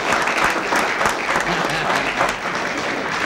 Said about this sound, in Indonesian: Oke, tepuk tangan untuk Muni Kari